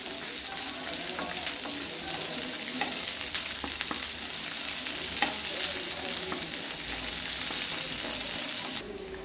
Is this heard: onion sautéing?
yes